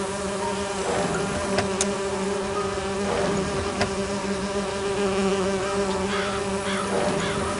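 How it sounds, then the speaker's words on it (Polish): Bees buzz steadily around an artificial hive in the video game Agatha Christie: And Then There Were None, a dense and continuous insect drone with a few louder passes of single bees, with no talk. "I need to subdue the bees first."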